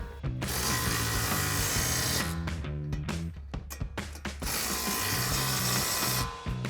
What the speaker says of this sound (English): Grab our impact and 24 millimeter socket and tighten those down.